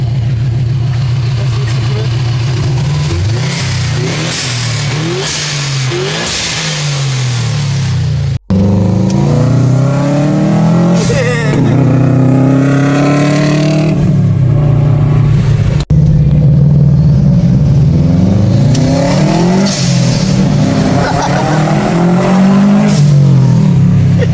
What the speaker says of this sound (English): the owner's gonna rev it for me